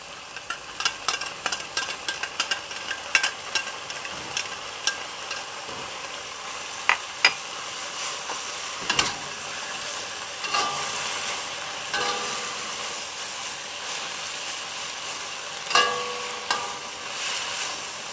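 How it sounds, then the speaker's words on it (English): Prawns fry in oyster sauce in a pan, a soft continuous sizzle under repeated scraping and clinking stirring strokes that come in irregular bursts. "Stir it. Okay, add in the oyster sauce."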